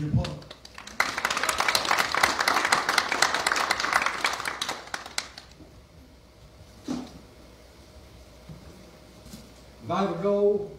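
Church congregation applauding, a dense burst of clapping for about five seconds that then stops, followed by brief sounds and speech near the end.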